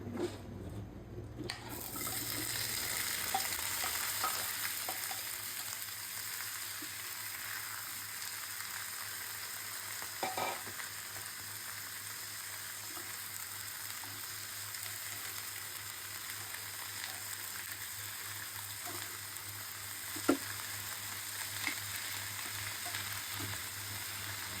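Vegetables fry in ghee with a steady, close sizzle that lasts the whole stretch, broken now and then by faint clicks of a spoon or pan.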